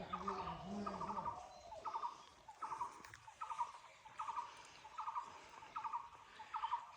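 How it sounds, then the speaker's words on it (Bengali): A dove calls repeatedly outdoors among rural farmland. The steady, evenly spaced calls stand out clearly over a soft background hiss, with no talking. "তারা বললো ঘুঘু পাখি ডাকছে।"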